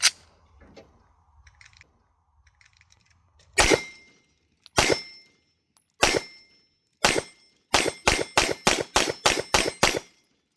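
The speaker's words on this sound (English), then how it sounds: "First shots with the Gen 6 Glock 17." Gen 6 Glock 17 pistol fired on a range: a few spaced sharp shots, then a rapid string of about seven close, loud reports, each with a bright metallic crack and short tail.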